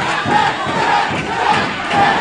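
A wrestling arena crowd roars and chants steadily in a dense, continuous wall of voices, swelling in waves with no single voice standing out.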